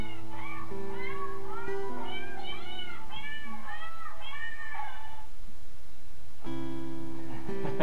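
A singing birthday card with a cat picture plays a tinny electronic tune of repeated synthetic cat meows over a steady buzzy accompaniment, loud and close, pausing briefly before starting again.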